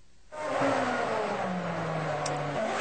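A Formula One race car at speed on a circuit, approaching the first turn at around 190 mph: a loud, steady engine roar with a rising and falling pitch as the car passes close by, running continuously throughout.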